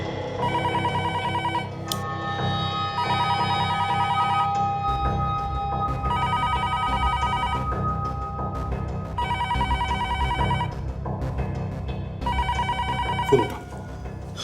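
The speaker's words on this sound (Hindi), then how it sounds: "फोन उठाओ, जाओ, घबराओ मत," An old-style telephone bell rings in repeated bursts with short gaps between, over a low background tone and music.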